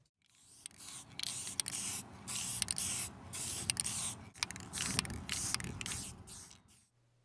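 Aerosol can spraying white background paint onto a curb through an address template, in repeated hissing bursts of a second or so separated by short pauses, close and fairly loud with no talking.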